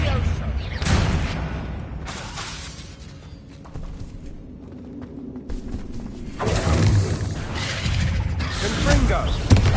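A Bombarda explosion spell in a Hogwarts video game produces rumbling, crashing bursts at the start and again near the end, set against game ambience and scattered voices.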